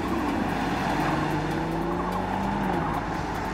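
An Audi RS Q8 with a 4.0-litre twin-turbo V8 drones loudly and steadily while driving, its engine note slowly rising and then easing back over a constant road roar.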